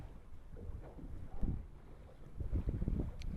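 Wind gusting across a lake while fishing from a boat: low, rumbling buffeting against the microphone, rising and falling in uneven surges, with faint splashing and no talk.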